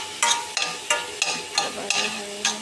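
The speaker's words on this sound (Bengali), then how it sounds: "পেঁয়াজটা ভাজা হয়ে গেল" Onion frying in ghee in a pan, stirred in a steady rhythm. About seven close scraping strokes come at an even pace above a soft continuous sizzle, with no voices.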